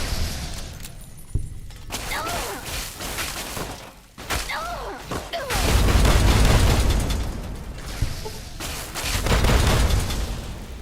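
Rocket launcher blasts in a Tale of Two Wastelands modded game, heavy booming explosions with crackling debris, two big low-end bursts swelling around the middle and end, with a voice talking in between.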